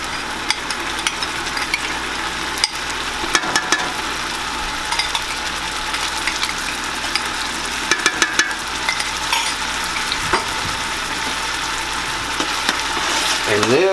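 Minced garlic and softened onions fry in a single pot, a continuous steady sizzle broken by occasional clicks and scrapes of stirring, with faint speech near the end.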